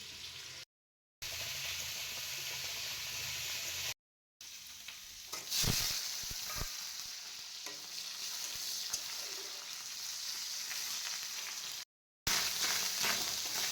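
Fish fries in spiced masala in a pan, a continuous loud sizzle with occasional stirring scrapes and a few sharper crackles, broken by brief silent gaps.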